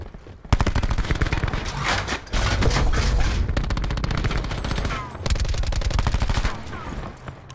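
Sustained automatic gunfire in Call of Duty: Black Ops 4 rattles in loud, rapid bursts with brief breaks, close and dominant throughout.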